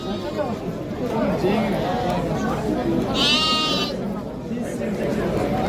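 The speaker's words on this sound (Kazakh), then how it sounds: "Гисар қошқар." A Hissar ram bleats once, loud and close, at a busy sheep and goat livestock market in Taraz, while people chatter and talk all around it.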